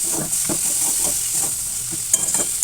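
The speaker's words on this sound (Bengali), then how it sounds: "ছোলাটা দিয়েও আমি বেশ কিছুক্ষণ কষিয়ে নিলাম" Sprouted chickpeas are sautéed in a pan, with rhythmic spoon strokes scraping every half second or so over a loud, constant frying sizzle, close and without any talk.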